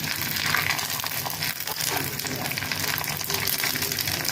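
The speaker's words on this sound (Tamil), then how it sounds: "அதை நல்லா பொன்னிறமாக வறுத்து எடுத்துக்கலாம்." Cashews and raisins frying in a pan until golden, a steady dense sizzle and crackle throughout with a constant, fairly loud hiss and no clear talk.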